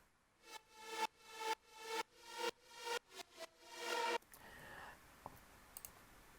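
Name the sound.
soloed gated reverb effect on music track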